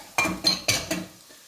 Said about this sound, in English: So we'll just get these frying and hopefully get a little bit of colour on them.